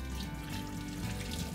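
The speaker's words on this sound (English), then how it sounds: "Then, when the time has passed, you're gonna rinse them off" Water runs steadily from a tap over soaked beans being rinsed in a sink, a soft continuous hiss and splash with faint trickling throughout.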